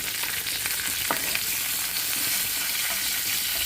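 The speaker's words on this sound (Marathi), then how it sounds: "आता बघा आपण फोडणी करतो" Spices for a Marathi phodni crackle in hot oil for a raw tomato chutney, a loud, close, unbroken sizzling hiss with a few faint clinks and stirs; nobody speaks.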